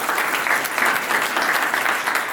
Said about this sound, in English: how about another round of applause for all of our candidates who came out this evening